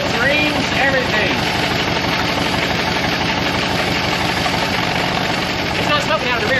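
A Buick 364 V8 idles after a rebuild, its engine showing worn valve seals and rings. It gives a loud, close, continuous rumble with a steady rapid pulse throughout.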